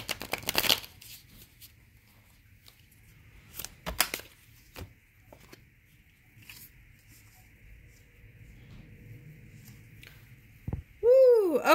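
Tarot cards being handled and shuffled, with brief riffling bursts separated by quiet pauses, close and fairly soft.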